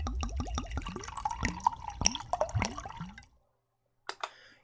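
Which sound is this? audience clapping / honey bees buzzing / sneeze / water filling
water filling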